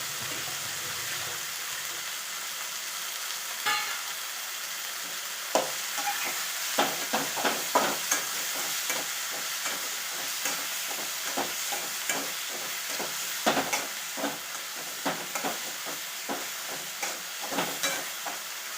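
Chopped greens frying in a pan while being stirred, a steady sizzling hiss broken by repeated scraping and clattering stirs, close and loud with no talk.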